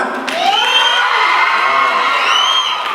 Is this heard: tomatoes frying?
no